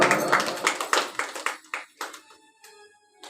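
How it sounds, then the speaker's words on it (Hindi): Audience clapping at a Hindi religious storytelling of the Dhruv tale, a burst of rhythmic hand claps that thins out into a few scattered, fading claps. "ताली बजाइए"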